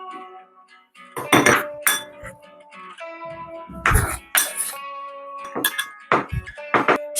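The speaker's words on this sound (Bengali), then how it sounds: "পেঁয়াজটাও কুচানো হয়ে গেল, এবার একটা বাটিতে তুলে নিচ্ছি।" Chopped onion is scraped and dropped into a bowl, with repeated clinks and knocks of a utensil against the dish coming in short bursts, close and fairly loud, with no speech.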